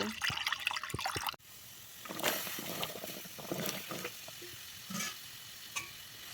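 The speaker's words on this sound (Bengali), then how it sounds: "প্রথমে কচুর লতিটাকে আমরা কিছুক্ষণের জন্য সেদ্ধ করে নেব।" Taro stolons going into a pot of water to boil for a Bengali recipe: a sharp clatter and hiss gives way to steady bubbling and sputtering with scattered splashes and stirring clinks, close up and without any talk.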